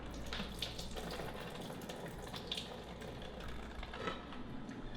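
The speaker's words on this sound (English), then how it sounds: "we're gonna drain this water" Water from cooked zucchini noodles drains into a sink with a soft, steady rushing trickle, faint and continuous with a few small splashes.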